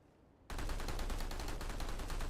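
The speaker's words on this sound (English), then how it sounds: "So if I start randomly firing here," Automatic weapon fire in the sci-fi shooter game PlanetSide 2, a loud rapid burst of repeated shots that starts abruptly after half a second of quiet and keeps going steadily, with no talking.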